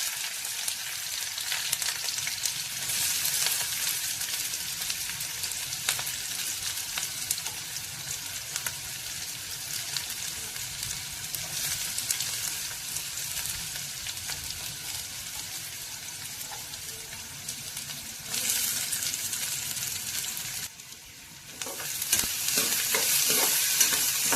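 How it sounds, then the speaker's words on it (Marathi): Chopped onion sizzles and fries in a pan of hot oil while a spoon stirs it, a steady crackling hiss with soft scraping strokes and a short pause near the end, nearby and with no talking. "कांदा खरपूस भाजून घ्यायचा."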